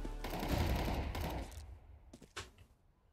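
Rapid bursts of gunfire in Counter-Strike 2, a loud dense volley in the first second and a half, then a few sharper separate shots trailing off, with no talk.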